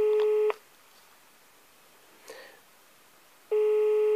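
Telephone line tones heard while on hold to a doctor's office in León, Spain: a loud repeating tone burst, a long stretch of near silence with a faint click, then the tone returning, with no voices.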